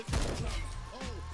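A Steyr Scout rifle fires in the shooter game Phantom Forces: a booming shot at the start, then a second, softer report about a second later, each trailing off briefly.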